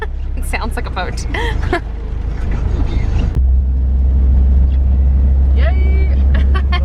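A van pushes through deep floodwater on a New Zealand road, with a steady low engine drone and continuous rushing, sloshing water, while people talk and exclaim close by throughout.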